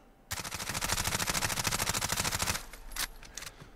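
Suppressed MP5SD submachine gun in Call of Duty Modern Warfare fires one long, steady full-auto burst of rapid, evenly spaced shots, loud and close, then stops. A few scattered quieter clicks and shots follow.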